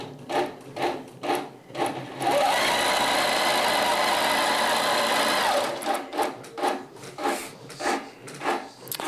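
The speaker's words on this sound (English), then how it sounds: "Pro Stitcher quilt run." A long-arm quilting machine driven by a Pro Stitcher system stitches a quilted dog mat: rhythmic pulsing mechanical bursts, then a steady loud buzzing run of several seconds, then pulsing again, close by with no speech.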